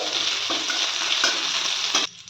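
Chopped green chili sizzling and frying in a pan for a vegetable soup while being stirred, a loud continuous hiss with periodic scraping strokes of the spatula, cutting off abruptly near the end.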